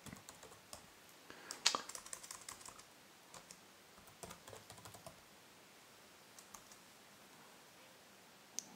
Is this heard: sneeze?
no